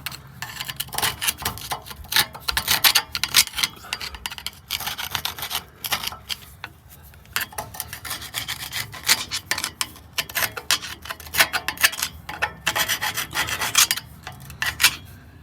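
A tool scrapes and chips old gasket material off the sealing surface of a Detroit Diesel 6V92TA engine on an Eagle bus, making close, irregular rasping strokes in bursts.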